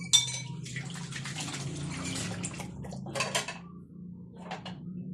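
A lid set onto a cooking pot of shrimp sinigang, with metallic clatter and scraping, a pause, then a brief final clink, close by over a low background hum.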